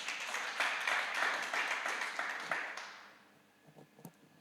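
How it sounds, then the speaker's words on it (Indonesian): A church congregation claps hands in worship during a Sunday service, a full burst of clapping that holds steady, then fades out over the last second and a half, leaving a few scattered sounds. "Kasih tepuk tangan bagi Tuhan."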